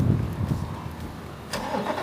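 A Chevrolet Corvette C8 fires up: a brief starter whirr, then the engine catches with a sharp bark and settles into a rumbling idle, close and loud.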